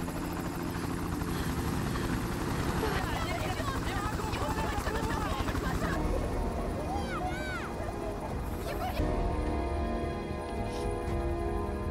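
A helicopter's rotor throbs steadily and loudly through a film scene, a constant thumping drone with voices speaking over it and brief chirping effects in the mix.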